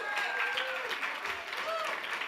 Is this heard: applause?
yes